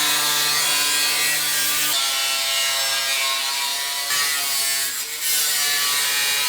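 A tool cuts into a rusted bedside panel on a 1978 Ford F-100 during rust repair, giving a steady, harsh, buzzing grind with brief pauses, loud and close, with no voices.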